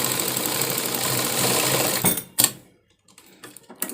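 A sewing machine stitches a blouse with a steady, close mechanical whir for about two seconds, then stops, followed by a few scattered clicks and handling noises.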